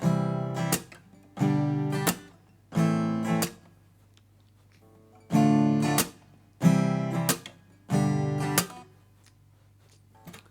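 A strummed guitar chord pattern in short bursts, six chords separated by brief pauses, clear and close with no voices.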